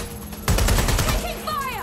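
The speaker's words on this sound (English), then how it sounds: "Suspect shooting!" A short, loud burst of rapid gunfire rattles out in Watch Dogs Legion, followed by a voice shouting.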